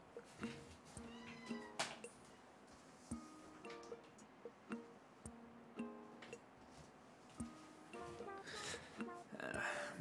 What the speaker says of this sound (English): My cat's scratching at the door.